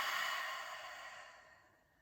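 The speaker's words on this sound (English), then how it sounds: "let's take a nice inhale together and exhale out the mouth" A single slow breath exhaled through the mouth during a meditation breathing exercise, a soft airy rush close to the microphone that fades out over about two seconds.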